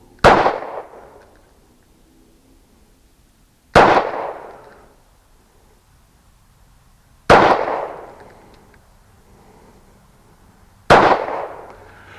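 A Ruger LC9 pistol fires four single shots at a shooting range, each a sharp loud crack with a short decaying echo, spaced about three and a half seconds apart, with quiet between shots.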